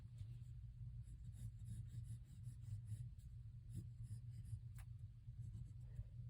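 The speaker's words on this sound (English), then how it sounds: "I will keep boldening my lines so that you can see." Pencil drawing over guide lines on paper, soft scratchy strokes repeating in short passes over a low steady rumble, close and faint.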